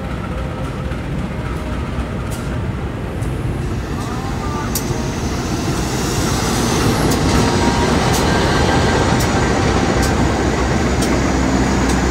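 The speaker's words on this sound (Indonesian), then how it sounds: "Sebentar lagi kita akan menyambut kedatangan kereta Fajar Utama dari Pasar Senen tujuan Yogyakarta." Fajar Utama train from Pasar Senen arriving at Purwokerto station, a loud continuous rumble of wheels and carriages that swells in the second half, with faint high ticks above it.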